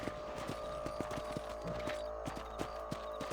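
Horse hooves clip-clop in a steady, close, moderately loud rhythm in the Red Dead Redemption video game, with the animal's footfalls alone and no talking.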